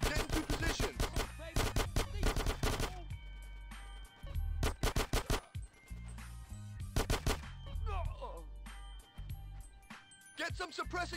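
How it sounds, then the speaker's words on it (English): Gunfire in the video game GTA San Andreas during a SWAT shootout, repeated loud bursts of rapid shots alternating with short pauses, with voices and game sounds in between. "Get some suppressing fire in there!"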